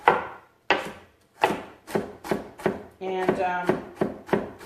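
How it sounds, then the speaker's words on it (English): A knife chops fennel on a cutting board for stew in a steady, unhurried rhythm of about ten crisp strokes. A brief voice speaks partway through. "my chopping is going a little slow here"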